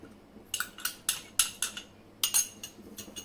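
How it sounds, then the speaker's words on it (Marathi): A spoon or ladle stirring custard milk in a metal pot on a low gas flame, giving a run of light metallic clinks and scrapes in uneven bursts, fairly quiet and close with no talking. "आणि सारखं ढवळत राहायचंय, नाहीतर हे याच्या गुठळ्या तयार होतील।"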